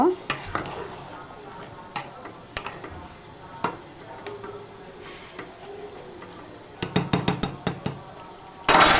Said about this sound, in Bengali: মসুরির ডালটা দিয়ে সুন্দরভাবে চালের সাথে মিশিয়ে নিব